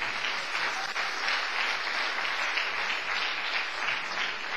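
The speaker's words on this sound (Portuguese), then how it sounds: "Esse é um momento excelente para você dar uma salva de palmas para o Senhor Jesus." Church congregation gives a round of applause during a sermon, a continuous, even patter of many hands clapping at moderate distance, fairly faint and without speech over it.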